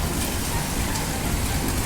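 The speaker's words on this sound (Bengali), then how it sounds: "ও বাবা জোরে বৃষ্টি পড়ছে ভালো বৃষ্টি হয়ে গেছে দেখো" Heavy, steady rain pours down continuously, a dense broadband hiss with no pauses and no voices.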